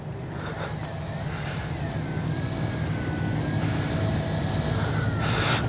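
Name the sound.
Dynam Beaver V2 RC airplane engine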